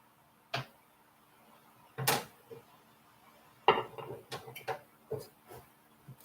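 Butter being cut into pieces inside a pot, a handful of sharp knife-on-metal clacks and taps spaced apart, then quicker small clicks, close and fairly quiet with no talk.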